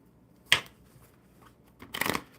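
Playing cards being shuffled in two brief riffling bursts, one short and one longer, close to the mic in a live card session with no talk.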